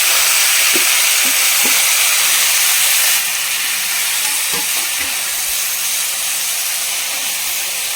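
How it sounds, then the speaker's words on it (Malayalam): Brinjal sautéing in hot oil with ginger and garlic gives a steady, close sizzling hiss throughout, with a few soft stirring knocks from the pan early on. "അതൊന്ന് വഴറ്റിയെടുക്കുക അത്രേ ഉള്ളൂ"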